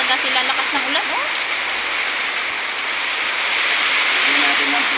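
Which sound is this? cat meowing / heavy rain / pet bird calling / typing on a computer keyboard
heavy rain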